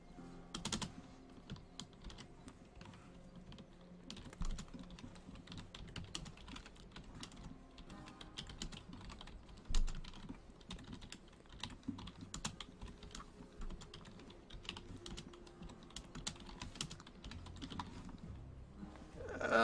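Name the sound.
computer keyboard typing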